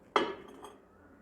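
A ceramic mug is set down inside a microwave oven, giving one sharp clink with a short ringing decay that fades out within a second, alone in a quiet kitchen.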